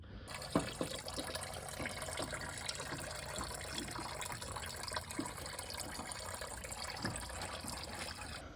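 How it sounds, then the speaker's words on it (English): Coolant draining out of a machine in a garage: a continuous splashing, gushing liquid flow at low level, steady throughout with occasional small drips and clunks. "to drain the coolant"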